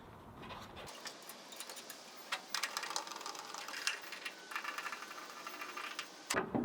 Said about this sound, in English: we can install the two Phillips screws